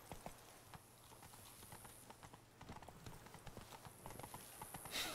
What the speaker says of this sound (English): Is the horse attacking me?